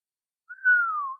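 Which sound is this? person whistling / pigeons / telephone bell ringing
person whistling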